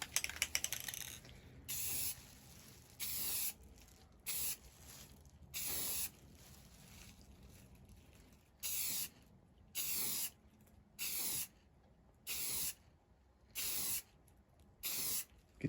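Clear coat sprayed onto door handles for a 2003 truck with a 6.0 PowerStroke diesel, heard as about ten short, even hissing bursts from a spray gun with quiet gaps between them. No one talks.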